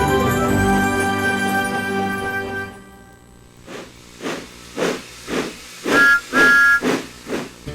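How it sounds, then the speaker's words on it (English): Thomas the Tank Engine, a cartoon steam locomotive, opens with a sustained steam hiss and whistle tone, then gives a run of rhythmic chuffs that grow louder and more regular as it comes closer, with whistle notes near the end. "Who's that puffing down the track?"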